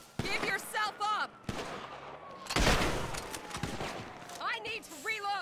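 Bursts of gunfire in Grand Theft Auto V, sharp cracks and a dense volley mid-way, mixed with police radio chatter and shouted voices.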